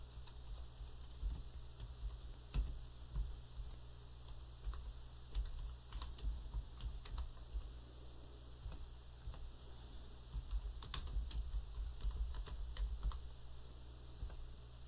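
Someone types an address, city, state and zip into a form on a computer keyboard, producing a steady run of quiet, close key clicks with brief pauses over a low electrical hum.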